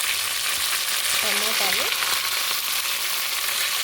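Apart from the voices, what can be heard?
frying with mint, coriander and curry leaves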